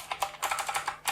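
Clicky blue Outemu switches on a Liocat KX3 mechanical keyboard clatter in fast, uneven keystrokes, each a sharp, loud click close to the mic, with no talk.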